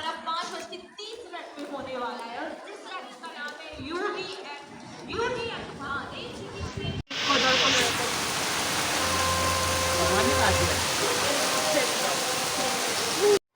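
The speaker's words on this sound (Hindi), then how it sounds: "बारिश दोबारा से होने लगी है।" Heavy rain pours down in a dense, steady hiss at an amusement park in Vadodara, preceded by people talking nearby before the downpour sound takes over.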